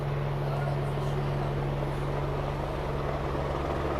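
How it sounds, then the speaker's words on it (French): A helicopter passes over a Pilates and stretching class, a constant loud low droning hum with a steady tone that fills the whole stretch, with voice murmurs faintly beneath. "Je suis perturbée par l'hélicoptère."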